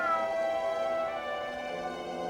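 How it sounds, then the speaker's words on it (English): A cat meows in the video game Grim Fandango, a drawn-out tonal wail that slowly falls away over a couple of seconds, moderately faint. "So I'm hearing a cat."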